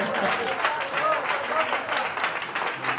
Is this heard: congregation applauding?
yes